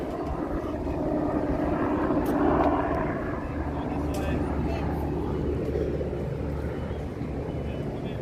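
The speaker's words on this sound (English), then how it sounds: "There's a helicopter going across there." A low, rumbling helicopter drone passes steadily in the distance over Lincoln Park, Chicago, swelling slightly and fading, under outdoor background noise.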